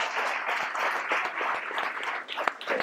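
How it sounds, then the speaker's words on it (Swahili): A classroom of students clapping for a classmate, a dense, steady burst of many hands applauding nearby for a few seconds, fairly loud and without speech. "Makofi mpigie."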